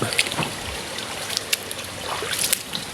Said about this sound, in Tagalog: yun parang flowing na siya flowing water